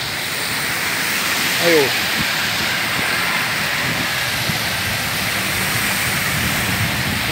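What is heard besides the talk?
heavy rain in the street with cars passing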